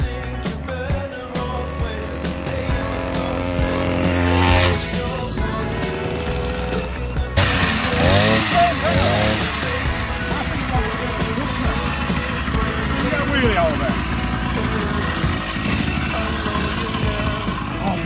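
A petrol-powered push bike engine with front suspension runs and rattles loudly, a buzzing, clattering two-stroke drone that rises as it revs, with brief talk over it.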